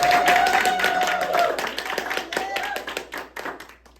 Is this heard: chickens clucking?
no